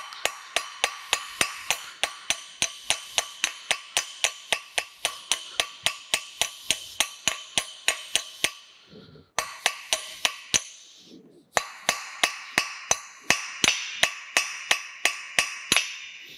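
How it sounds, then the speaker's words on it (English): Ball peen hammer peening over a steel caster axle on an anvil: a long series of sharp, ringing metallic strikes at a steady, fairly quick pace, with two short pauses, and no talking. "we're gonna peen it over. So we'll just flip it upside down, and using a ball peen hammer."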